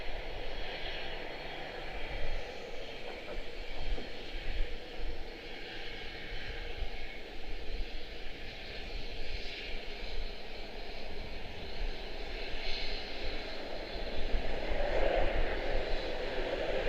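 An airliner landing on runway 19 center at Washington Dulles airport, a steady, fairly distant engine roar that holds level and swells slightly near the end.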